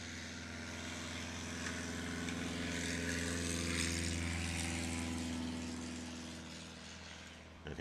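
A Taylorcraft F-22 light propeller airplane, the factory demonstrator, taking off at an airport STOL competition, its engine a steady droning hum that swells to a peak and then slowly fades as it climbs away.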